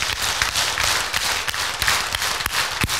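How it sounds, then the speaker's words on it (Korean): A crowd at a Bible lecture gathering claps together in a quick, steady rhythm, a series of sharp, roomy group claps, fairly loud and close, with no voices over them. "자, 박수 10번 시작."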